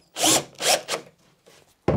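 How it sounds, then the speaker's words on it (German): A long screw is driven into a wooden workbench in several bursts. Each loud, close whir of the driver is separated by short pauses, and a final burst starts at the end. "Und können dort auch eine Schraube reindrehen."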